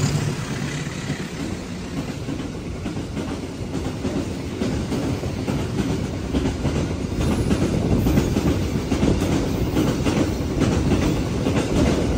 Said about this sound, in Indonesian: Yang akan melintas langsung di jalur 2 adalah kereta api angkutan barang.